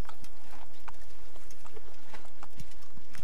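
Horse hooves clip-clopping at a slow ride in Assassin's Creed, an even walking rhythm over a constant ambient bed, moderately loud.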